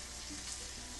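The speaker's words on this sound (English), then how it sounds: "Can you hear that sizzling?" Reuben sandwich with cheese sizzling in a buttered pan, a steady dense crackling hiss, fairly faint and continuous for about a second.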